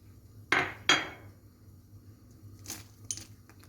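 Potatoes dropped into a pot of hot water for beet soup: two sharp, close clanks in quick succession, then a pair of fainter knocks, in a quiet kitchen with no talk.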